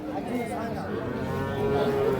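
A six-tooth-aged Holstein Friesian dairy cow moos in a long, drawn-out call, close by, over a steady murmur of crowd noise and people talking at the Ambari cattle market.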